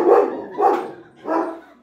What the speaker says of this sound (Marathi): आणि एक छोटासा डॉगी पण आहे यांचा.